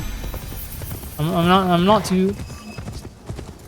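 Horse hooves clip-clopping in Assassin's Creed Shadows, a steady soft patter running beneath a man's speech throughout.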